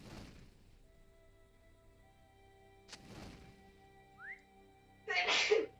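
A sudden sneeze bursts out near the end over quiet background music with faint tones from the game The Lord of the Rings Online, after a couple of earlier soft noisy bursts.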